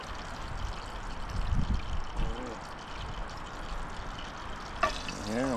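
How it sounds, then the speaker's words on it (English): Eggs sizzle and fry in bacon grease at a Florida island campsite, a steady crackling hiss with occasional scraping or stirring. "I'm gonna cook them in the bacon grease"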